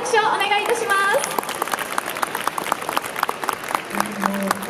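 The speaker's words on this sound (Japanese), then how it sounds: "皆様大きな拍手をお願いいたします" An audience at an outdoor bus company appreciation festival claps after a brass band collaboration, scattered, uneven applause following a short burst of talk, with an announcer's voice coming back over a loudspeaker.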